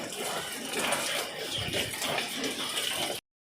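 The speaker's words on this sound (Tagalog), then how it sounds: "Kusog na pog uwan." Heavy rain pours down in a steady, dense wash of noise, loud and close, cutting off abruptly near the end.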